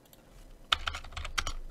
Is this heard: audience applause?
no